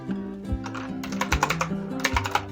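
A search is typed on a computer keyboard in quick, uneven keystrokes heard close up over soft background music.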